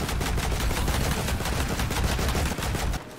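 A PPSh submachine gun in the World War II shooter Land of War rattles off a fast, steady burst of loud, close automatic fire with a heavy, booming character, stopping abruptly just before the end.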